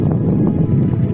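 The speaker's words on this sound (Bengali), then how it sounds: "তারপর দেখি এখন বাতাস, প্রচুর বাতাস, যা বলার বাইরে" Strong wind on a riverbank roars and buffets the microphone in a steady, loud, low rumble with no talking.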